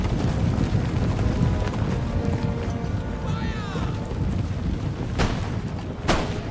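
Musket volleys and artillery fire rumble through an Empire: Total War battle, a dense, loud roar of gunfire and booms with a couple of sharper crackling shots near the end.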